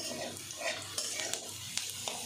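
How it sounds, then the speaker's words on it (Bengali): Curry leaves and ginger fry in a pan with a soft close crackle and sizzle, broken by a few sharp scrapes and clinks of a spoon stirring. "কারি পাতাটা দেখো আমার ভাজা হয়ে এসছে, আর আদাটাও অনেকটাই ভাজা হয়ে গেছে।"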